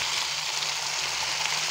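Eggplant frying in a pan of hot oil for a spiced eggplant and potato fry, giving a steady, even sizzle throughout with no voices.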